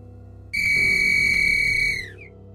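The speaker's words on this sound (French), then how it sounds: "Le second coup de sifflet." A single loud, shrill whistle blast rings out, held steadily for about one and a half seconds before it trails off.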